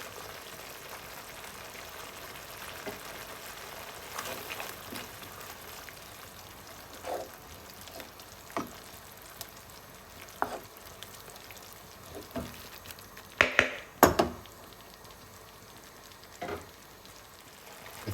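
A pink sauce with tuna and chilli simmers gently in a pan, giving a soft, steady low crackle broken by a few sharper pops and bubbles, heard alone with no voices.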